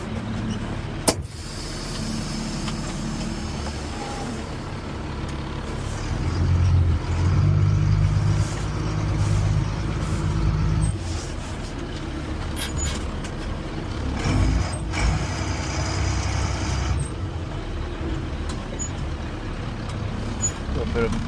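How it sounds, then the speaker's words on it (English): Dump truck at a snow contractor's yard maneuvering into a tight parking spot, its engine rumbling steadily with creaks and a clunk. Someone talks over the engine noise. "Let's go park our dump truck."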